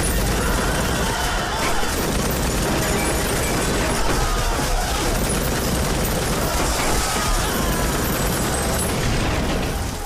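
Gunfire rings out in a police station scene from the KGF Chapter 2 movie, heard as a dense, continuous barrage of loud blasts and bursts mixed with film soundtrack, steady and unbroken throughout.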